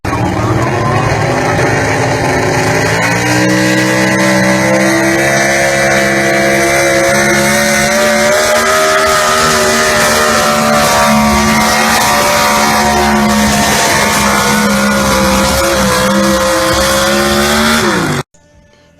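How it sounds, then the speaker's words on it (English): Super stock pulling trucks at a Young Farmers truck and tractor pull in Mexico, Missouri, a loud sustained engine roar with rising pitch that holds steady for nearly the whole clip before cutting off abruptly. "a video of some super stock trucks pulling from Mexico, Missouri at the, was it Mexico, Missouri Young Farmers Truck and Tractor Pull"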